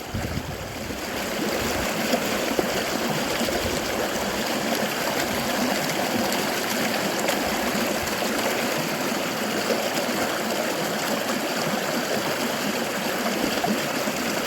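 Water sloshes and swirls steadily as gold is panned from crevice material in Scotland, a continuous close gurgling wash with no talking.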